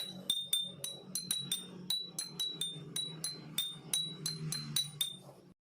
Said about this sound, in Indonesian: Gelas C yang berisi 3/4 air lebih besar suaranya daripada gelas A yang memiliki 1/4